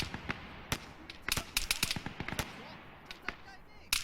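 An AI soldier lays down machine-gun suppressing fire in Arma 3, a series of sharp, fairly distant shots in irregular bursts over a quiet background.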